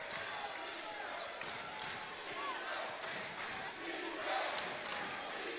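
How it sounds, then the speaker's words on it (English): A basketball arena crowd in an FGCU versus Michigan Wolverines game chants in a steady rhythm, a broad wash of many voices under a commentator talking. "The crowd chants defense."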